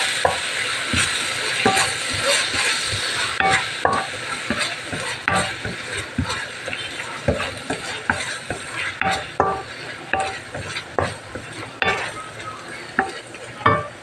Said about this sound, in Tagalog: Tapos, halu-haluin natin.